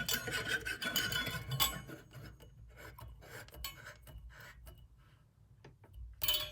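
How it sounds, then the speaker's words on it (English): A high pressure sodium bulb is screwed into the socket of a GE industrial fixture, giving close scraping, rasping turns in short bursts that thin out toward the end, with no talking. "We're going to screw in the bulb."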